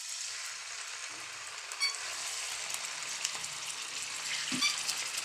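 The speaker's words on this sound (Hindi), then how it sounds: "अब इसको करेंगे हम फ्राई।" Half a kilo of chicken fries in hot ghee for chicken karahi, a continuous close hiss and sizzle with faint stirring clatter, no voices.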